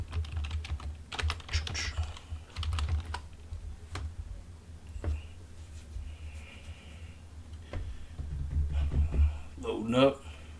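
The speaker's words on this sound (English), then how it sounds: "Typing it up live right now." Fast typing on a computer keyboard, quick bursts of light clicks and clatter throughout under a man's ongoing speech, with a low steady hum underneath.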